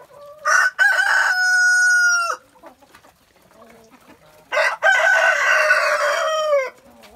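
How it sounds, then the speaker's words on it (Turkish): Free-range farm chickens and a rooster crow loudly nearby in two long, drawn-out cock-a-doodle-doo calls separated by a pause filled with soft clucking. "Bunlar gezen tavuklarımız."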